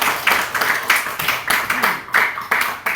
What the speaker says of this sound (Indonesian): Beri tepuk tangan buat Bang.